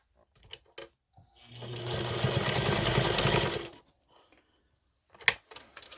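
A sewing machine stitches a quarter-inch seam on a fabric pouch in one steady burst of about two seconds, with small clicks and handling before and after, close and without talk.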